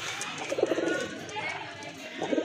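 A male pigeon of a local Bangladeshi breed coos in repeated low, throaty bursts, fairly close, with a steady background hum and faint chatter around it.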